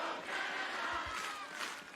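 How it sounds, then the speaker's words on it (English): A Montreal crowd cheers at a beach volleyball quarter-final, a steady broadband roar of voices and whoops sustained at moderate volume for the whole two seconds. "And the Montreal crowd once again go to work."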